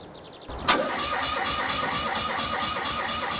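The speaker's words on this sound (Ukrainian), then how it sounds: "Голосно заводиться." A farm vehicle engine in Farming Simulator 22 cranks with a sharp burst, then catches and settles into a loud, steady, throbbing idle.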